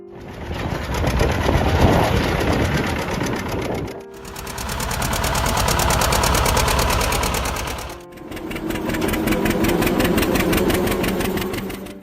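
A John Deere Model R diesel tractor engine runs in three steady stretches, a rough, loud, rapid chugging that rises and falls between short dips, with no voices heard.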